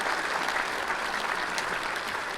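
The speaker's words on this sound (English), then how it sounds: "Give yourself another applause." A live audience at an evening talk show claps steadily and evenly, a thick wash of applause that holds at full strength throughout with no voices on top.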